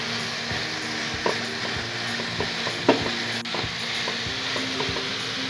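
Spices frying in a pan for Kenyan beef samosa filling, with a steady sizzle under repeated scraping and tapping strokes of a spoon being stirred around, a few sharper knocks standing out.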